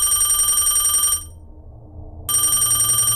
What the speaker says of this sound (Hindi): फोन की रिंगटोन बजने लगी।